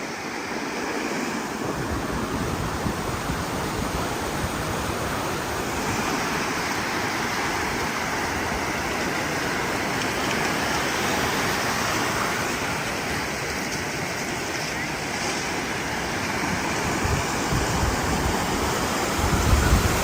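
Continuous surf roar of Atlantic ocean waves washing on Moody Beach, Maine, with wind buffeting the microphone and no talking.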